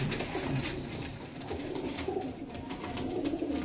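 A trade pigeon with clipped wing feathers coos softly among other pigeons, a faint continuous rumbling chorus of low calls with a few brief flutters, no voices.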